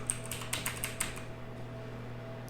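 Light, quick clicking of a computer keyboard being typed on in short bursts, fairly faint over a steady low electrical hum, then trailing off into quiet.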